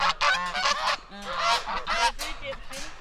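Several Egyptian geese honk repeatedly nearby, loud nasal calls overlapping in quick bursts, with short pauses between.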